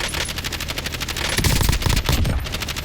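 Sustained automatic gunfire from the Kilo assault rifle in Call of Duty, a rapid, even stream of loud shots for the whole stretch, with heavier low booms joining midway.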